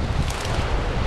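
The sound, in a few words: wind at Arıburnu beach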